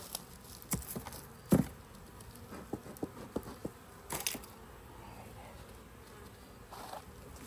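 Honey bees buzz around an active hive in a hillside apiary. The buzzing is faint and continuous, broken by a few sharp taps and knocks nearby.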